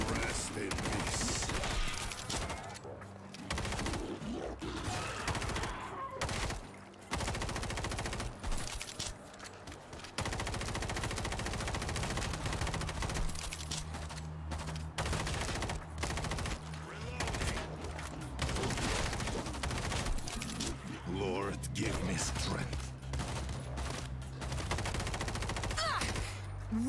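Dense, continuous gunfire from the zombie shooter game World War Z in Moscow, rapid automatic bursts and shots layered over a loud, busy game soundtrack with voices talking throughout.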